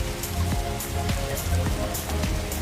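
Rain pours steadily in the video game Cabin Crew Simulator as an A350 airliner sits parked at the stand, a dense continuous patter with a low tonal hum running beneath it throughout.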